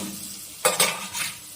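Teasel gourd seeds hit a pan of fried onion and chopped chilli, a soft background sizzle broken by a short burst of louder crackling and stirring scrapes, then easing back to a gentle fry.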